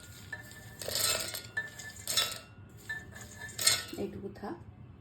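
Lightly roasted, husked peanuts are tipped into an iron wok for a dried coconut and peanut chutney, giving a few sharp clattering pours and metallic clinks against a low steady background.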